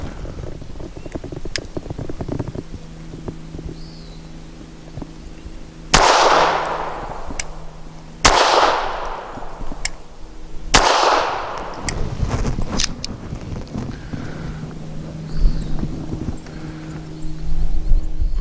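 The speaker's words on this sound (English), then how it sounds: "For 5 shots from 7 yards" A Bersa Thunder 380 pistol with a threaded barrel fires Fiocchi 95 grain rounds. Three loud, sharp reports ring out a couple of seconds apart, each with a trailing echo, over a low steady hum and a few faint clicks.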